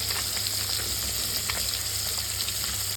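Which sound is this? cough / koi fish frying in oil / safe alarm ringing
koi fish frying in oil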